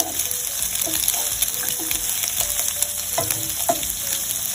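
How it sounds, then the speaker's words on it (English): Quartered boiled eggs sautéing in a pan with pesto, a close, steady sizzle with light spatula taps and scrapes throughout. "again saute it for about a minute or two so that it gets heated up nicely"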